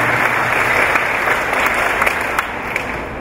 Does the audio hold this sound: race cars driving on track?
no